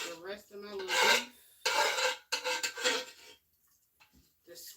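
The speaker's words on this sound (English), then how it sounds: "The scraping is gonna drive me crazy, so I'm not gonna do too much scraping." Metal utensil scraping cooked beef from a pot while canning meat, several harsh rasping strokes in short bursts separated by pauses, close and fairly loud.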